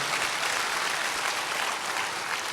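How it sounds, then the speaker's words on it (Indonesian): A church congregation applauds during a sermon service, a dense, even wash of clapping that stays strong and steady throughout without any speech over it. "Beri tepuk tangan yang meriah"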